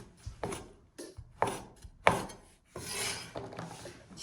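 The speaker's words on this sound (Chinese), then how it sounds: "接下来把解过冻的年糕给它切成切刀片" A knife slices through partly thawed nian gao rice cake on a board, several separate close cuts each ending in a firm knock, with a short gap between strokes and a longer rasping pass toward the end.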